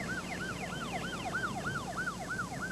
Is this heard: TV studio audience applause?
no